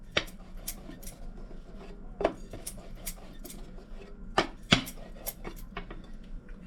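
Rainbow poori dough being rolled and patted by hand on a board, a series of soft irregular slaps and taps with scraping rubs between them, close and moderately loud with no talking.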